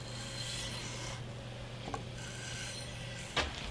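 Mora knife with a Scandi bevel stroked flat across 2000 grit sandpaper, giving a steady close rasping rub with a couple of brief sharper scrapes near the end.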